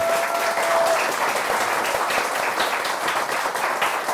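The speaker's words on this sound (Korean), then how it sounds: "오늘 오신 식구들께라도 좀 박수를 한번 드릴까요?" An audience in a cafe applauds for staff and family members, producing steady, continuous clapping from a sizable group at moderate distance.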